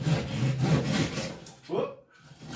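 A hand saw makes straight cuts through wood to remove a section for patching, giving a few close rasping strokes in quick succession before a brief pause.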